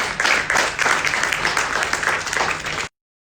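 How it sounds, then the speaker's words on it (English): A crowd applauds at an EV store launch key handover in Goa, a steady wash of many hands clapping close by that cuts off abruptly at the end. "Let's welcome them with a huge round of applause."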